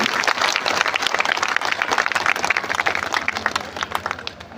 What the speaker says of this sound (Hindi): जोरदार तालियां बजाइए उनके लिए।